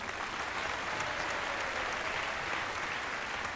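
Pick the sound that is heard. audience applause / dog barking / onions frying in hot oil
audience applause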